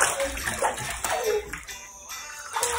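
Water sloshing and splashing in a bathtub with young twin children bathing, a close, continuous wet wash with small bursts of movement throughout.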